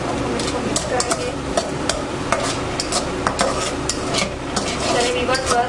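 A spoon stirs a homemade soap mixture containing sugar and mustard seeds in a pan, with a steady scraping and clinking rhythm, close and fairly loud, and faint sizzling underneath.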